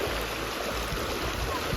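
A clear river in a village in Arunachal Pradesh rushes steadily as people wade across, a continuous loud wash of flowing water.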